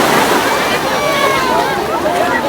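Sea waves wash and slosh continuously at a beach in Alexandria, a loud, steady rush of surf filling the whole moment with no pauses.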